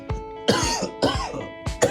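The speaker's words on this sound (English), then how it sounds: "I'm sorry about the coughing" A person coughs and clears their throat in a quick series of four rough, close bursts, each a short harsh rasp separated by brief pauses, with no talking.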